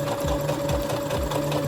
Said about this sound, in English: what I do now is basically sew this V shape to close the shoulder